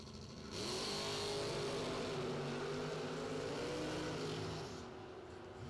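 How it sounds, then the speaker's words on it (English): A drag race car launching down the racetrack at a Labor Day bracket event, a loud sustained engine roar rising in pitch for about four seconds before dropping off. "A beautiful race car, left-hand side of the racetrack."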